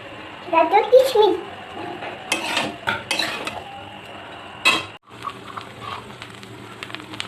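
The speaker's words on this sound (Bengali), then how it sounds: "চিনি দিয়ে ভালো করে একটু নাড়াচাড়া করে নেব।" Metal spoon scraping and clinking in a pan as sugar is stirred into fried rice, close and uneven, with a voice and other talk in the background.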